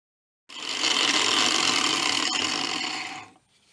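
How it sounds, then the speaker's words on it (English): A 60 grit flap disc on a grinder bites into the edge of tin snips, a loud, close, steady high grinding hiss lasting about three seconds before cutting off, with no talking. "So we just take our 60 grit flapper disc."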